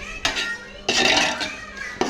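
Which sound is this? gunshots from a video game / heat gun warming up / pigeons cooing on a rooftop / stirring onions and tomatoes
stirring onions and tomatoes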